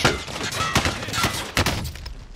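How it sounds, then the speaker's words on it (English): Gunfire in the video game Call of Duty: Modern Warfare, loud irregular shots and impacts in rapid succession, with a sharp blast near the middle of the stretch. "Taking fire!"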